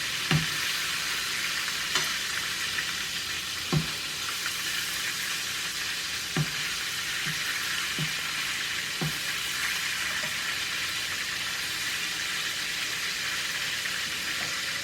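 Pork loin chops fry in a hot pan with a steady, fairly loud sizzle, punctuated every couple of seconds by low thuds and scrapes as the meat is stirred and moved around.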